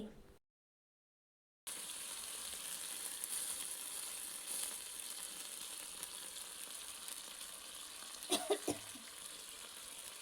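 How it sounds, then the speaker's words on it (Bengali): Onion and capsicum stir-frying in a pan with chilli, soy and tomato sauces, a steady close sizzle with a few louder scrapes and stirs near the end, after a brief silent gap at the start. "সমস্ত উপকরণগুলো একটু ভালোভাবে নাড়াচাড়া করে ভেজে নেব"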